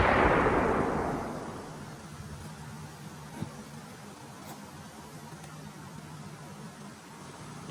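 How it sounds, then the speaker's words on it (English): Gunfire from federal troops shooting John Wilkes Booth as he comes out of a flaming building: one loud blast opens, then fades over about two seconds into a low, steady noisy rumble with no voices. "This is footage of the federal troops shooting John Wilkes Booth"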